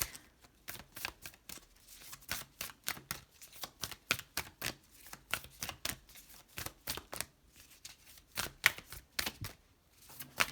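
A Moonology oracle card deck is shuffled in quick, repeated riffling bursts that keep a steady rhythm, close and fairly quiet, with no voice.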